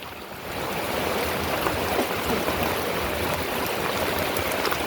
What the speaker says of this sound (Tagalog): konting konti na lang guys aapaw na yung tubig dito sa amin